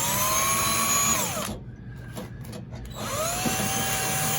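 A power drill whirs steadily at close range while drilling through red tape on a side window, dips briefly as the load changes, then spins back up to full speed.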